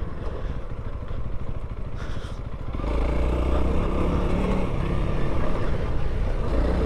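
A 2021 Honda CRF300L dual-sport motorcycle ridden off-road, its single-cylinder engine a steady close drone that rises and thickens partway through, with wind noise and clatter from the bike.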